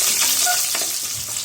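Small onions with green chillies and curry leaves sauté in hot oil in a pan, a soft continuous sizzle with faint stirring scrapes, close and fairly quiet.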